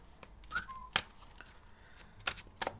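Quiet, close riffles and soft snaps of tarot cards being shuffled in short bursts, with pauses between.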